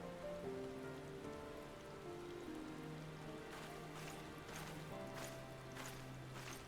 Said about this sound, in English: Can't see the stars, it's raining.